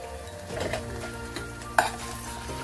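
Ginger and a pinch of turmeric with onion are stirred and fried in a pan for an eggplant and coriander chutney: a soft continuous sizzle under scraping strokes, with a couple of sharp spatula clinks against the pan.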